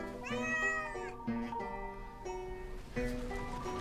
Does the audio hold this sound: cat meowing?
yes